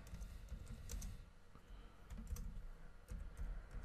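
Steady typing on a computer keyboard while entering a text caption in Camtasia Studio 7 video-editing software, a close run of soft key clicks in uneven bursts over a low background hum, with no talking.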